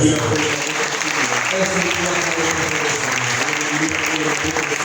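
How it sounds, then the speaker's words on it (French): A church congregation claps and cheers loudly at a sermon, a dense sustained roar of applause and voices filling the hall at full volume from start to finish. "Est-ce que vous pouvez acclamer très fort?"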